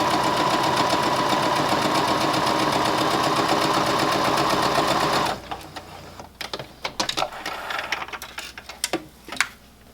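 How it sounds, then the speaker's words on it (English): Sewing machine runs a steady, fast quarter-inch seam on quilt fabric, a dense even whir for several seconds, then stops, leaving scattered handling clicks and fabric rustles. "put that in the machine, and we're sewing a 1/4 inch seam all the way down"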